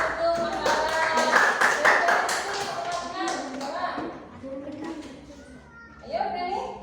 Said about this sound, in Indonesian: Beri tepuk tangan untuk Mas Rafa.